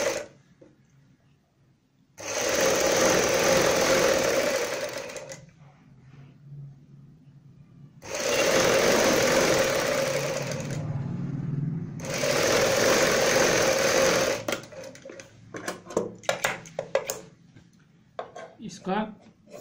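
A sewing machine runs a half-inch-wide seam attaching a strip to a kurti sleeve, loud and close in three long sustained bursts with pauses between, followed by light handling clatter.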